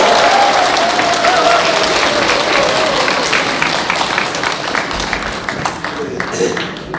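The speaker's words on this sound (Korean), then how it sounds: "우리 성준경 목사님한테 힘찬 박수 부탁드립니다" A church congregation applauds a pastor with sustained, loud clapping that fills the room, slowly thinning toward the end, with some faint voices mixed in.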